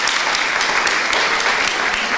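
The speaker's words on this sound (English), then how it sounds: "she's here to hear your applause" Audience applause welcoming a speaker to the stage at a conversation-series event, a dense, steady clapping from a sizable crowd that stays loud and continuous for the whole moment.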